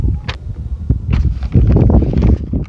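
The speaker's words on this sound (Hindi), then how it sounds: "अरे बहुत तेज़ हवा चल रही है" Strong wind blows outdoors, buffeting the microphone with loud, gusty low rumble and rustling that swells and persists throughout, with no voice present.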